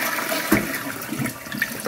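A toilet in an apartment flushes with a loud rushing whoosh as water drains away and the tank begins refilling, heard close and alone for nearly two seconds.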